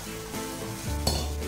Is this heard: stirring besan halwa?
yes